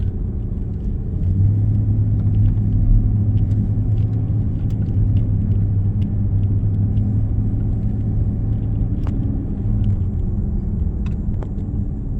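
Inside a Jaguar XK (X150) driving along a road in the Lake District, a steady low engine and tyre rumble holds throughout, with faint cabin ticks and rattles over it.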